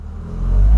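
Volkswagen Polo fitted with a TSI engine, heard briefly as a low rumble that swells into a loud, close rev.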